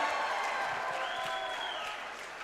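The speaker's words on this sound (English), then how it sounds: "make some noise for both of these fighters" A crowd applauds and cheers for both fighters at a combat sports event, dense clapping with a rising shout fading slightly toward the end.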